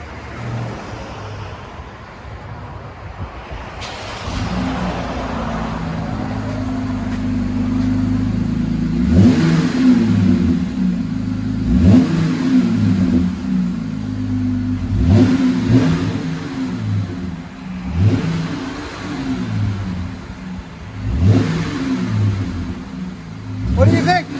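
A 2020 Jeep Gladiator V6 pickup with dual exhaust and 14-inch Magnaflow mufflers idles low, then revs up in repeated bursts, exhaust rumbling close and loud, with a few voices faintly in the background.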